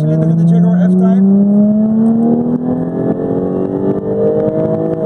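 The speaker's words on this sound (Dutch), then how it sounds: "Even aandacht voor de 6-cilinder in de Jaguar F-Type." Six-cylinder engine of a Jaguar F-Type 400 Sport revving up, pitch climbing steadily over five seconds, loud and close with a harmonic-rich snarl.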